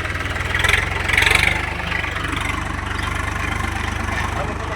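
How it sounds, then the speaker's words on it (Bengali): Two 4x4 tractor engines idle together in a wheat field after hauling an overturned harvester upright, a steady, chugging low rumble with faint knocking, close by, with brief voices in the background. "দেখো, 4x4 দুটো ট্রাক্টর 4x4 একসঙ্গে জয়েন করে এই মেশিনটাকে ওঠানো হলো"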